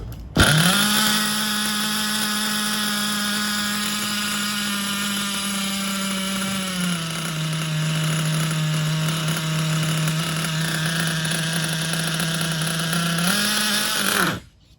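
A 20-year-old nitro engine in a Hyper7 RC buggy runs continuously with a loud, high buzzing whine, close by. Its pitch dips slightly midway, rises again near the end, then cuts off abruptly.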